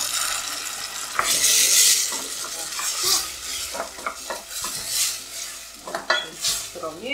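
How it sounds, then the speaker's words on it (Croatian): Tomato is stirred into softened onion and garlic in a pan over low heat, giving a close, gentle sizzle under repeated scraping and clinking of a utensil against the pan. "Promiješati."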